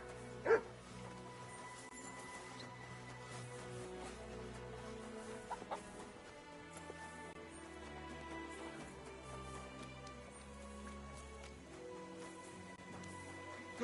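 A dog barks once near the start in Kingdom Come Deliverance 2, a single close, sharp bark over a quiet medieval soundscape of soft music and faint clucking fowl, followed by a couple of softer sounds later.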